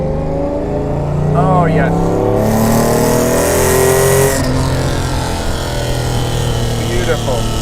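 Mercedes-Benz 300 SL engine pulling hard through bends, a loud close engine roar that climbs in pitch, dips with a gear change and builds again, with someone speaking over it.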